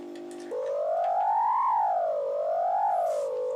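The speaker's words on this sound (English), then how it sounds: "Now that sound is just from the filter feeding back." A modular synthesizer filter feeding back into self-oscillation produces a loud, steady electronic whistle whose pitch glides slowly up and down, with nobody speaking.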